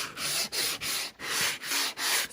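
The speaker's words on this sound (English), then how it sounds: "take some fine sandpaper and sand these edges here" Fine sandpaper rubbed over the edges of a varnished piece, six or seven even back-and-forth strokes in a steady rhythm, close and fairly loud.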